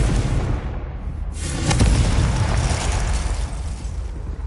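A Confringo blast spell in Hogwarts Legacy goes off as one loud, deep boom that swells around the middle, then fades into a lingering rumble with no voices over it.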